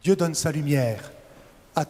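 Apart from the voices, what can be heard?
No everyday noise stands out behind the speech.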